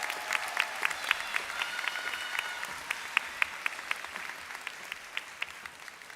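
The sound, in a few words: applause at graduation ceremony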